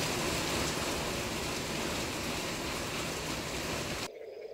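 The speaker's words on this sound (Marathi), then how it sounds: "माजलगाव तालुक्यामध्ये जोरदार पाऊस बरसलेला आहे" Heavy rain pours steadily in Majalgaon taluka, Beed district, a dense, even wash of falling water close by, stopping abruptly near the end.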